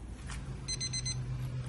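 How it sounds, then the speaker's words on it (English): A meat thermometer alarm at a Big Green Egg grill cooking tri-tip sounds a repeating run of rapid electronic beeps, steady and fairly faint outdoors. "the alarm hit our target goal of 115"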